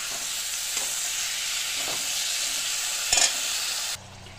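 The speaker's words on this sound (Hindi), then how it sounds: "इन सबको अच्छे से मिक्स करके 2 मिनट के लिए भून लेंगे।" Peas and carrots fry in a hot pan while being stirred, giving a steady sizzling hiss with occasional scraping stirs, close up, before the sizzle drops away near the end.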